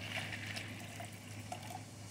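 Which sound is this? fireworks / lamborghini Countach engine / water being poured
water being poured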